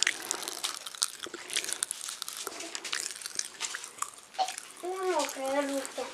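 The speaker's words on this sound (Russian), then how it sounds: "Как оно хрустит." A crunchy snack pulled from a gift egg is bitten and chewed up close, with quick crisp crunches mixed among children's chatter and excited voices.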